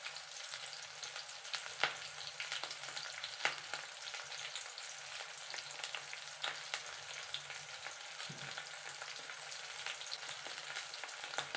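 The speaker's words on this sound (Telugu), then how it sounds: "కరివేపాకు వేస్తున్నాను." Curry leaves sizzle steadily in hot tempering oil for a Telugu-style broad bean (goru chikkudu) curry, a continuous crackling fry with scattered sharper pops, no talking.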